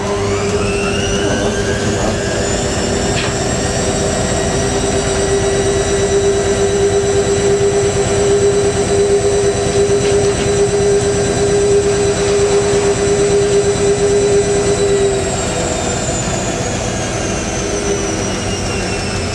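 A vintage 1980s Hotpoint washing machine winds through its final spin cycle, a loud, steady high-speed whine with a sustained drone that holds for about fifteen seconds before easing slightly as it slows.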